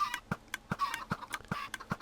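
Chickens clucking in Minecraft, the game's blocky fowl giving short, repeated clucks at a fairly regular pace, faint and alone with no talk.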